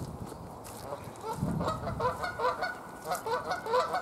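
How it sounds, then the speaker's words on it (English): A flock of geese on castle grounds honks in repeated, overlapping calls that grow busier and louder toward the end, fairly close, with a soft low rustle underneath. "Stumble across a load of geese here."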